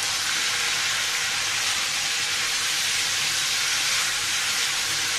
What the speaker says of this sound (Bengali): এভাবে তেলের মধ্যে বরবটিটা ভেজে নিলে